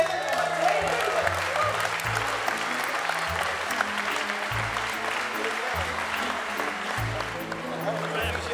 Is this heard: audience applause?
yes